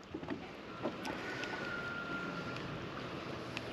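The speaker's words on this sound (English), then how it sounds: "the wind is really picked up" Wind blows across a bass boat out on the water, a steady breezy rush with mic buffeting and a few faint knocks and taps, no talking.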